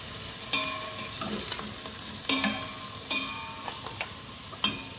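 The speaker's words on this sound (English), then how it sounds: "I'm just going to take all of this, throw it in, the celery, the shallots, the garlic, the peppers" Celery, shallots, garlic and peppers frying in a pot for split pea soup, with a steady close sizzle and several sharp spoon scrapes and clacks against the pot, no talking.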